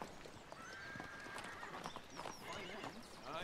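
Horse hooves clip-clop alongside a horse's whinny in a historical drama riding scene, with dialogue and score running under them throughout.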